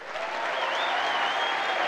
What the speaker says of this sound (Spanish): Gracias, un aplauso para ella.